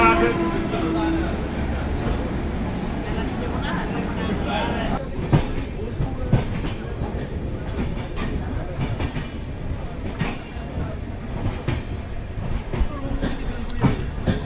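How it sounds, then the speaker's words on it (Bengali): A train pulling out of Sealdah station and running on its tracks, a steady rumble with repeated rhythmic clicks and clacks from the wheels, heard from inside under people talking. "ট্রেন তো পুরো ছেড়ে দিল"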